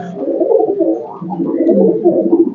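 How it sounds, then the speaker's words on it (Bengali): A male Saki pigeon coos continuously and close by, with soft, throaty rolling phrases repeating without pause. "কবুতর দেখেন"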